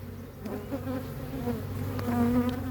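A hive of honeybees, showing a tendency to swarm, hums in a steady close drone during a transfer to a new hive, the buzzing swelling slightly toward the end.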